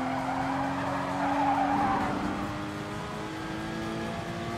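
A race car in Gran Turismo on PS4 sustains a steady engine drone with tire squeal, the pitch rising then settling into a constant whine as it accelerates, loud and continuous with no talk.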